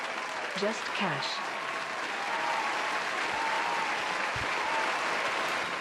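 Steady applause from a crowd during a live sports-betting show, a continuous wash of clapping at moderate level with a few brief voices near the start.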